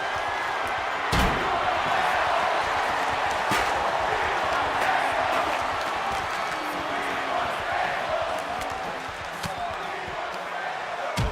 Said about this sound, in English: Crowd screaming, "We want tables."